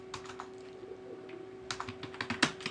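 Keys tapped on a computer keyboard while entering an accounting journal entry in Tally ERP 9, a quiet uneven run of clicks that bunches into quicker bursts near the end.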